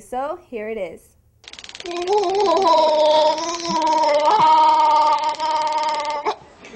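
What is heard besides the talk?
man screaming while being tasered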